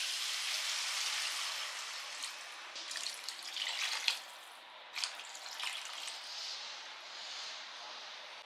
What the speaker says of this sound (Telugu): ఇప్పుడు మనం ఇందులో నీళ్ళు యాడ్ చేసుకుందామండి